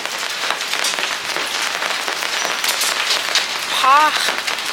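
Rain falls in a steady, dense patter of drops on surfaces, close and continuous, with a brief voice-like call near the end.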